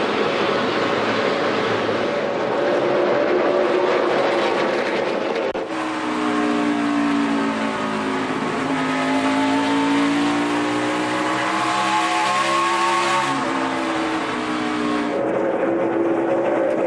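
NASCAR Nationwide Series stock cars race around the Bristol track in 2014, engines roaring loudly and steadily as cars pass, with rising and falling pitch sweeps as the pack swirls by.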